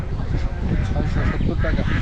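Ducks at a busy Bangladeshi village poultry market, where ducks and local roosters are sold, quacking and honking in a dense, continuous chorus close by, mixed with crowd noise and people talking.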